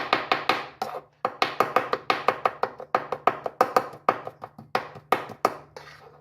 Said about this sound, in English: mince them babies down, chop, chop, chop